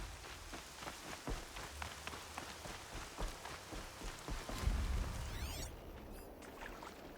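Steady rain pattering across surfaces in Horizon Zero Dawn, a dense hiss of drops with scattered sharper ticks, plus a brief low rumble and a rising whine near the end.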